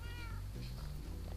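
A Minecraft cat meows a few times in drawn-out, tonal calls over a low background hum.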